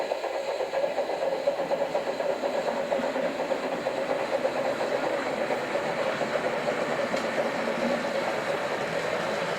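A train rumbles steadily with a rhythmic clickety-clack of wheels on rails, continuous and fairly loud throughout, with no one speaking.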